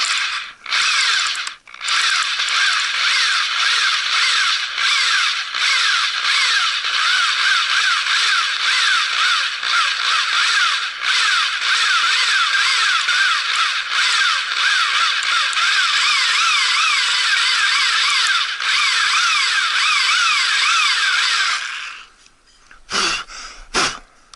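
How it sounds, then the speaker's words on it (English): A power drill whines steadily and loudly, close up, as it bores out a stripped master cylinder screw on a KLR 650 motorcycle, running almost unbroken for about twenty seconds before stopping with a brief clatter. "you want to try to drill straight down, not to veer off to the sides."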